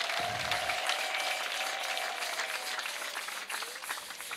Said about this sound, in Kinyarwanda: Nimwongere Imana amashyi menshi cyane.